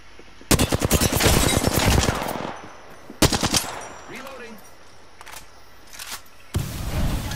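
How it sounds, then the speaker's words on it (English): Enemy automatic gunfire in the video game Apex Legends comes in rapid, loud bursts, a long volley followed by shorter ones, with faint game sounds in the gaps. "The enemies are shooting at me."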